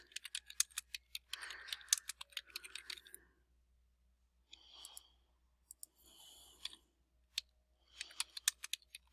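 Search terms typed on a computer keyboard, sparse quick bursts of light key clicks with short pauses between them, close and quiet.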